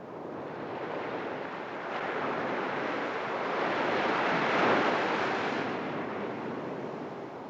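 Ocean waves roll onto a sandy beach in a broad, steady rush of surf that swells louder toward the middle and then eases, heard alone without voices.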